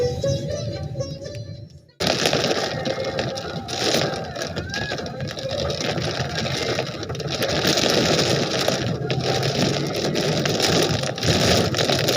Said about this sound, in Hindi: हल्की हल्की बारिश होती हुई